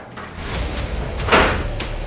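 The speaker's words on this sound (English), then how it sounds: "The door just slammed." A door slams shut in a quiet house, one loud, sharp thud over a low background hiss.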